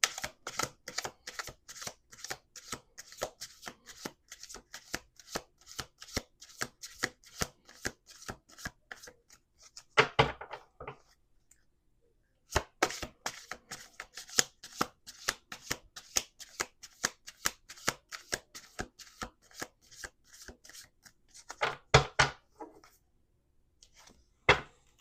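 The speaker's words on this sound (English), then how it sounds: "We're going to do 2 more shuffles." A deck of tarot cards is shuffled over and over, giving rapid crisp clicking and riffling bursts in long runs, broken by a couple of short pauses, with no talking.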